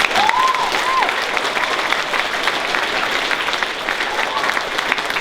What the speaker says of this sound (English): Can we give these leaders a real round of applause?